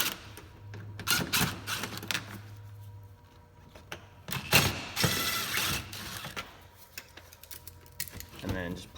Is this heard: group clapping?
no